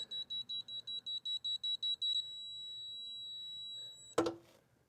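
A digital torque wrench's buzzer beeps in a quickening rapid series, then holds a continuous tone as the target torque nears on an Impala repair, ending with a sharp clank of the tool.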